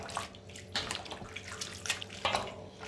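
Grated potato shreds are put into a bowl of water, giving soft close splashing and sloshing sounds, quiet and irregular with no talk.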